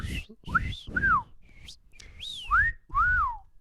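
A person whistles a short, sliding tune in several separate notes, each swooping down in pitch, with soft breaths between them, close and clear.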